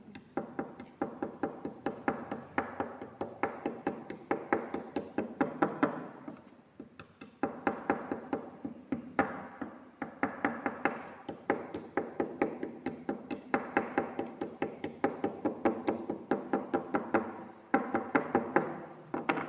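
Rapid, repeated knocking as medicine tablets are crushed by pounding on a hard surface without a mortar, steady rhythmic thuds in bursts of several seconds with short pauses, close and moderately loud, no talk.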